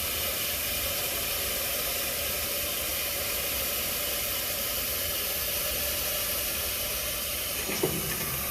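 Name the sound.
steam hissing from a Bryan steam tractor boiler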